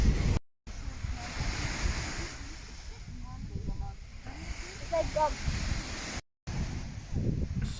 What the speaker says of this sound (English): So this is Chalish Beach.